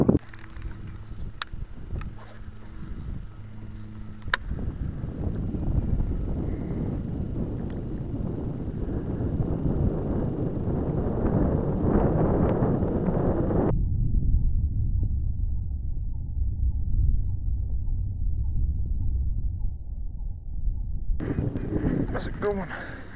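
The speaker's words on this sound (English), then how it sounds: "Oh, the wind's blowing again." Steady wind buffets a boat on Lake Murray during pre-spawn bass fishing, a loud, continuous rushing roar lasting throughout, with people talking intermittently over it.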